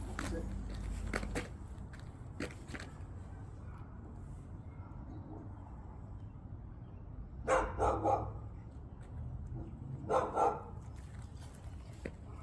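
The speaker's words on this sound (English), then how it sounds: "there's a couple dogs up at the gate" A few short bursts of dog barking from a couple of dogs at a gate in the distance, two clusters of barks over quiet outdoor background, faint and muffled.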